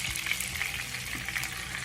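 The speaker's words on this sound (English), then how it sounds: "so that I can fry the tomato mixed with onions, pepper, red pepper, and the dry fish, smoked fish." Tomato mixed with onions, pepper, red pepper and smoked dry fish frying in used oil, a steady dense sizzle that holds at an even level with no talking over it.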